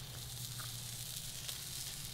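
Scallops sear in a hot pan, giving a steady, faint sizzle and hiss that runs continuously with no talk over it.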